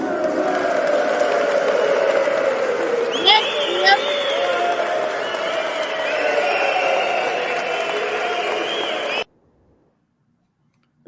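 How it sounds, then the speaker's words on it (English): A loud canned crowd applause-and-cheering sound effect plays continuously for about nine seconds, dense and roaring, with a couple of brief higher squeaks partway through before it cuts off abruptly into silence. "That's our new applause track."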